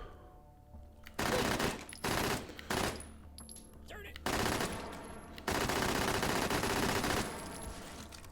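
Automatic gunfire from a small-calibre gun firing tiny bullets in Hot Dogs, Horseshoes & Hand Grenades, loud bursts of rapid shots separated by brief pauses, with the longest burst running near the end.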